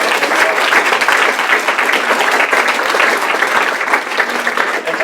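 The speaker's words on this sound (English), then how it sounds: "Let's give them a round of applause." Sustained applause from an audience at a community panel discussion, thanking a pizza restaurant for providing food, with steady dense clapping that holds at full loudness throughout.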